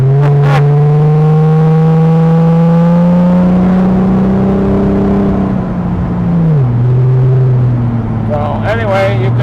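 A 2001 Chrysler Prowler's engine held in low gear, a steady drone that climbs slowly then drops sharply as the gear changes, loud and close with a voice chiming in at the start and end.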